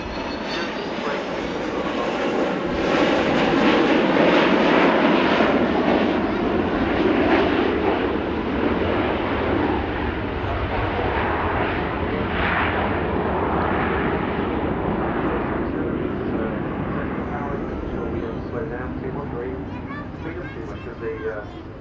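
Boeing 727-200 airliner flying past at the Farnborough Airshow, its engines producing a loud, sustained broadband roar that swells and slowly fades over about twenty seconds, with someone talking over the noise.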